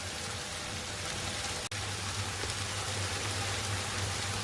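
Beef madras curry frying in a pan with spices, a steady close crackling sizzle like rain, continuous with a brief dropout partway through.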